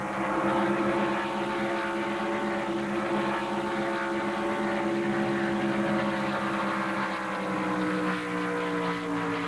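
Powerful drag racing boat engines roar and rise in pitch as they accelerate, a steady loud droning whine that holds throughout.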